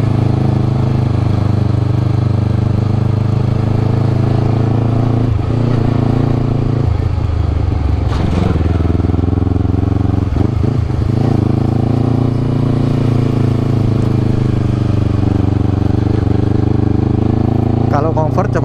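A 2019 Honda CBR250RR engine runs steadily while riding uphill, a loud continuous drone that rises and falls slightly with throttle. A rider talks over it throughout.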